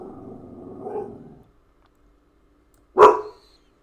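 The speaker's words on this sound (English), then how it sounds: "I'm gonna mute myself so the dog shuts up" A dog gives a low rumbling growl-like bark, then after a pause one sharp, loud bark close by, with no talking.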